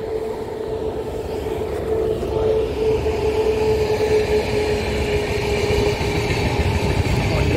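A train on the Tapti Valley main line approaches near a rail junction. It makes a steady engine drone with a sustained humming tone that grows gradually louder and closer.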